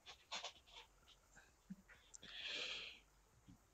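A dog pants rapidly at close range in a quiet room, a run of short breathy huffs followed by a longer hissing breath, with faint shuffling between.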